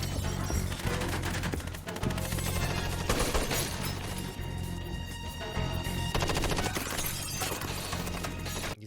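Gunfire rings out during a shootout scene in the movie Four Brothers, rapid repeated shots and bursts mixed with shattering glass and crashing impacts, loud and continuous over several seconds.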